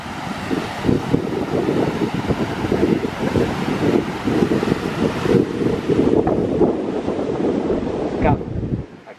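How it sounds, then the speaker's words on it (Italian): Sea waves on the shore at Fuerteventura, wind-battered and continuous, a steady loud rush of surf and gusting wind across the whole stretch, with possible faint voices underneath. "Super rilassante ascoltare anche il rumore del mare."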